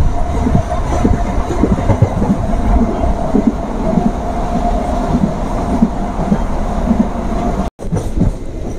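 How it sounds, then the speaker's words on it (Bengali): A train rumbles through Murshidabad Junction railway station, a loud continuous roll of wheels with clickety-clack rhythm and faint squeals, heard up close with no talk, and a brief dropout near the end. "এই হলো মুর্শিদাবাদ জংশন রেল স্টেশন।"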